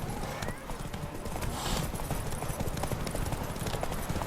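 Horse hooves gallop in The Witcher III in a steady, rapid clip-clop that runs through the whole stretch, close and prominent over a busy game background.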